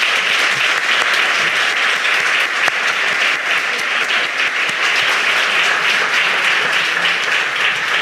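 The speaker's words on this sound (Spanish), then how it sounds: "por favor, con un fuerte aplauso." An audience breaks into sustained, loud applause welcoming a speaker at a presentation of a Japanese pop culture platform, dense clapping holding steady throughout.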